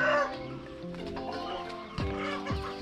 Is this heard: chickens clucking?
yes